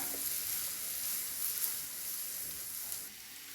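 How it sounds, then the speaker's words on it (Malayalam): Spice masala with fennel and coriander powder sautéed in a pan for a Kerala beef curry with green peppercorns, a faint steady sizzle with light stirring, fading slightly at the end. "ഇത്ര കൂടി ചേർത്തിട്ട് നന്നായിട്ടൊന്ന് വഴറ്റിയെടുക്കാം"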